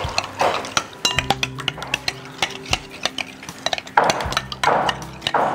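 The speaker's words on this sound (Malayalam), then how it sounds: "ജസ്റ്റ് സ്പൂൺ വെച്ചിട്ട് ബീറ്റ് ചെയ്തെടുത്താൽ മതി" A spoon beats cake batter for a carrot macaroni chicken cake in a bowl, rapid clinking and knocking strokes against the sides in an uneven rhythm, close and clear with no talk.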